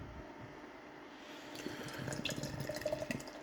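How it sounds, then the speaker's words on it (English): Six Bridges Medlock India Pale Ale poured hard into a glass, a soft liquid rush building over a few seconds with fizzing, bubbly crackle near the end, quiet and close. "Got a hard pour."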